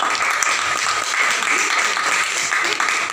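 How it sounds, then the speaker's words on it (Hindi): A crowd applauds steadily, a dense wash of clapping that stays even throughout, with some voices mixed in. "हाँ बजा दीजिए, तालियां बजाइए।"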